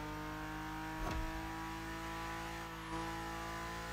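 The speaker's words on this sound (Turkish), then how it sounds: "Arabanın sesi de bu arada harbiden güzel." A modified BMW M4 Competition in The Crew Motorfest drones at steady high revs, with a brief louder surge and a slight pitch dip later, no talking.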